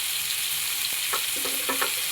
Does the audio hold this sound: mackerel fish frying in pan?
yes